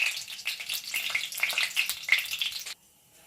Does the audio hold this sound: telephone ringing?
no